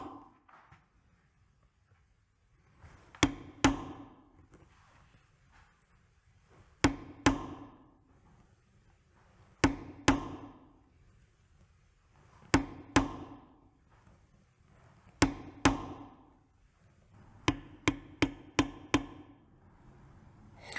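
A rope basket stamp tool is struck with a mallet into leather, producing sharp close knocks in spaced pairs and then a quicker run of strikes near the end, with quiet pauses between groups.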